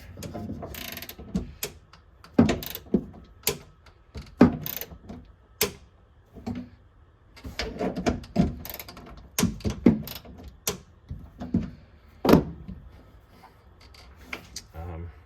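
Bedrail anchor tie-down cleats on a Toyota Tacoma or Tundra are tightened, producing scattered clicks and ratcheting mechanical snaps in short bursts, close and fairly quiet, with some brief talk between them.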